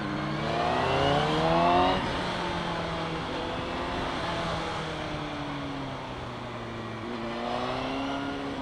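CFMOTO 750SRS sport motorcycle ridden on the road: a loud, steady engine drone with rising and falling pitch through acceleration and gear changes, carried under continuous wind rush.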